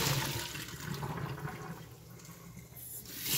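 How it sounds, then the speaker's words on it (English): Boiled shrimp and their hot cooking water are poured into a strainer in a home kitchen, making a loud, close, rushing gush of water that runs for about three seconds and then eases off. "Let's go ahead and get these strained and cooled."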